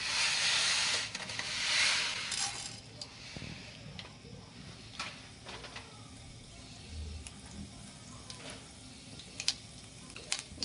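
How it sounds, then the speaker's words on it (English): Mustard seeds crackle and sizzle in a little hot oil in a saucepan, a broad steady hiss with scattered sharp pops and ticks, loudest at first and then settling into sparse crackles. "You can hear the mustard seeds are just about starting to pop."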